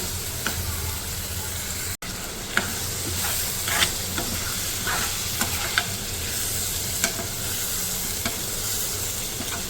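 Black chickpeas stir-fried with spices in a pan, a steady sizzle under repeated scraping and stirring clicks from a utensil, close and continuous.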